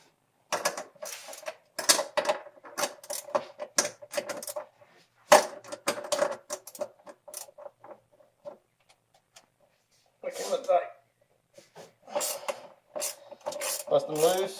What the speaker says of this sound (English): If you have ratcheting spanners, it's going to save you a lot of time.